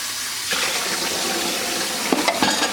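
Cold running water rinses cottage cheese, a steady broadband wash from a tap that swells after the first half-second, with a few brief splashy bursts near the end; no talking.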